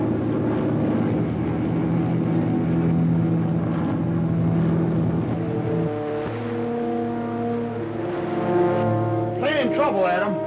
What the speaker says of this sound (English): Atoll Airways flying boat. Nine aboard. One engine out, second one acting up.